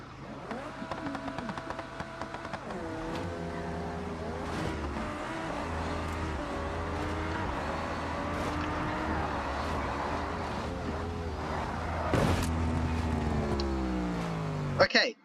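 A car engine in the BeamNG driving game revs hard in third gear with clutchless shifts, the pitch climbing and dropping through repeated gear changes in a continuous loud drone.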